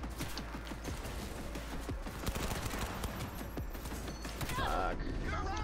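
Rapid gunfire in the video game Cyberpunk, dense bursts of shots rattling continuously under game ambience, with a short electronic warble near the end.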